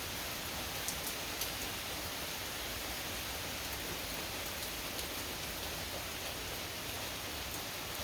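Heavy rain falls in the woods, a dense, steady hiss of drops on leaves and ground, unbroken throughout with occasional sharper patters and no voices.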